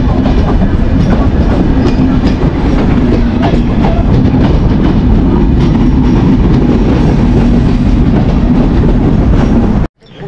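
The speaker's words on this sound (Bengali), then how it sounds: "দেখতে পাচ্ছেন আমাদের এই চিত্রা এক্সপ্রেস ট্রেনটি চলে এসেছে" Chitra Express passenger train pulling into a station, a loud steady rumble of rolling railcars with rhythmic clickety-clack of wheels on rail joints, continuous and close, cutting off sharply near the end.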